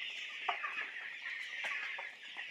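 A crowded house of broiler chickens, more than thirty days old and not yet fed, fills the air with a dense, continuous chorus of clucks and chirps, with sharper individual calls popping out every half second or so and no speech.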